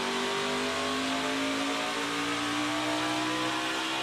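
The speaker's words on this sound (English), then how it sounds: "Listen to the throttle, how early he has to lift." Race car engine at a rainy race, holding a steady high drone with harmonic tones, close and loud, with no speech over it.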